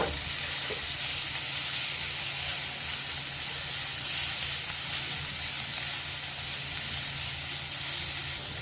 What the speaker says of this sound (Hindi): उसी समय डाल देंगे बारीक कटा चॉप किया हुआ प्याज। एक प्याज है और इसे भून लेंगे।